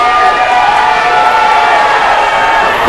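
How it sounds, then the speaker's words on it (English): A wrestling crowd at a four-corner chain match roars continuously, a dense, loud wall of cheering and shouting that holds steady throughout without a break. "Listen to this crowd. They are electric."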